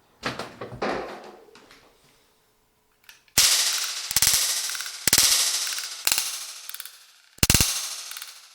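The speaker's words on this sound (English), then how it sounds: "it's only a cap gun." Toy cap gun firing five sharp, loud cracks at uneven intervals, each with a short ringing tail, after a few seconds of softer clattering handling sounds; no voices.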